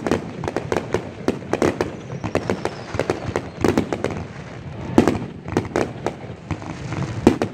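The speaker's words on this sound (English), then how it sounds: "Big old fireworks show out here" Rapid fireworks burst at I-75 Raceway in a dense, irregular volley of sharp pops and bangs, continuing without pause for several seconds.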